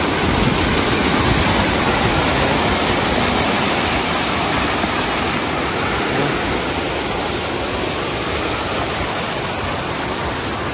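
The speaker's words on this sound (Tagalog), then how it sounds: "Ang lakas ng tubig po." Floodwater rushing through an overflowing canal in the rain, a loud, steady broadband roar with no letup, close and continuous, with no one talking.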